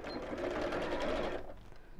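A sewing machine runs a steady stitching burst while sewing a straight seam on an insulated lunch bag, a close, even mechanical whirr that stops abruptly near the end.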